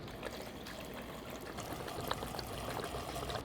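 Gasoline, 91 octane, pours steadily into a fuel container, a continuous liquid trickle and splash at moderate level with no voices.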